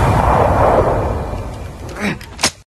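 A gunshot from the 2022 film Ben & Jody. A loud, sharp blast cracks near the end after a stretch of rumbling, noisy background, followed by a brief tail before it cuts off.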